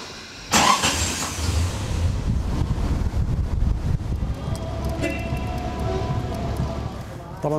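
Antique car rebuilt from scratch in Gaza driving along the seafront, its engine rumbling steadily under heavy wind buffeting, with a faint voice and some lighter sounds in the background.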